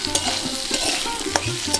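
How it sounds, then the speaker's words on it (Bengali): Spoon scraping and stirring vegetables with crushed ginger and green chillies frying in a pan, a soft sizzle under several sharp scrapes in quick succession. "আদা আর লঙ্কাটা বেশ ভাজা ভাজা করে নিয়েছি, কষিয়ে নিয়েছি"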